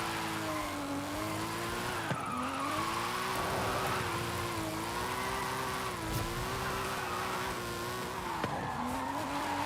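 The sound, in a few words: Supra car drifting in the video game Forza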